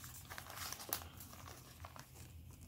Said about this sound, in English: There's something else in the cellophane wrapper.